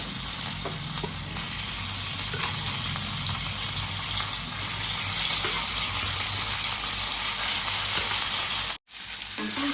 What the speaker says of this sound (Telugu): ఆయిల్లో చికెన్ ఒక ఐదు నిమిషాలు వేగనివ్వాలండి